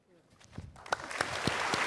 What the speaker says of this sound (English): Turn round, take your applause.